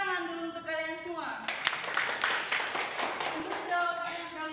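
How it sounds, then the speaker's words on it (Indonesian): A school class claps during a group social studies lesson simulation, a dense burst of applause in the middle while a voice speaks before and after it. "Oke, tepuk tangan dulu untuk kalian semua."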